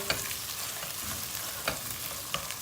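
Tomato paste fries with onion in a pan, a steady close sizzle running throughout, with a spoon scraping and tapping the pan a few times.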